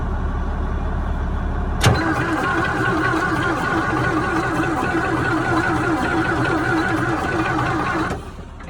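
The diesel engine of a 1970 Caterpillar D9G bulldozer, probed for a pump problem, kicks in abruptly and runs at a steady, loud, even drone for several seconds, then drops back down near the end.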